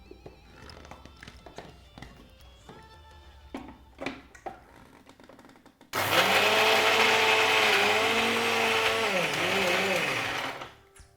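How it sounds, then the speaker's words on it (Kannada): A blender grinds almonds with cardamom and saffron, no milk added, for almond halwa: a loud, steady whirring that starts abruptly after quiet kitchen clatter and a voice, runs about five seconds, then stops. "ಫಸ್ಟು ವಿತೌಟ್ ಮಿಲ್ಕ್ ಸ್ವಲ್ಪ ಬ್ಲೆಂಡ್ ಬ್ಲೆಂಡ್ ಮಾಡಿಕೊಡ್ಲಿ"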